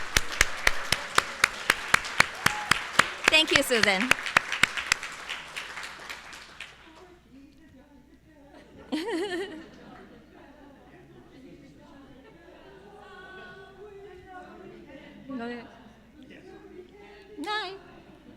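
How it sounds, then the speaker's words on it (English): Dinner audience applauding at a society banquet, a dense burst of many hands clapping for about five seconds, then fading into room murmur and scattered chatter, with a person briefly speaking. "give her a round of applause."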